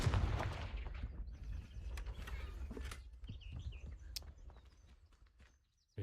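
A Confringo blasting spell goes off in Hogwarts Legacy, a loud burst at the start that fades into crackling debris and scattered impacts before falling silent.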